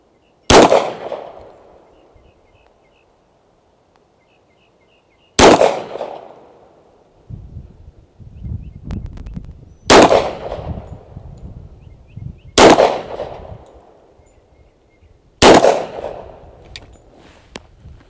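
Five sharp, loud shots from a Rock Island Armory Rock Ultra HC 10mm pistol at an outdoor range, spaced a few seconds apart, each with a brief echoing decay.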